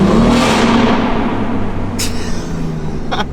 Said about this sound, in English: you can definitely hear the turbo spool a whole lot better